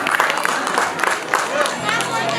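An audience at a stage event claps, a steady patter of applause from a crowd with voices murmuring underneath.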